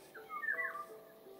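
Birds in a dark forest in modded Minecraft give faint, high, slurred whistles, a few short tonal calls clustered together over a quiet background.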